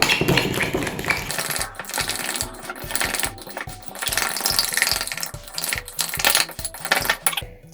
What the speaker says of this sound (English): Just whisk everything.